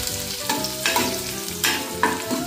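Garlic frying in a pan, a steady close sizzle broken by louder scraping stirs about every half second to second.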